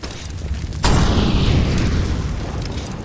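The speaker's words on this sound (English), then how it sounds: "Flashbang." A flashbang grenade goes off in a Warzone match: a loud, sudden broadband burst that rings out and decays into a sustained roaring wash over a few seconds.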